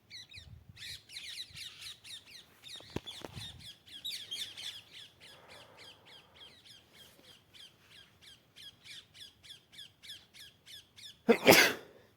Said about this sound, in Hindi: ये देखो पक्षी उड़ रही है ना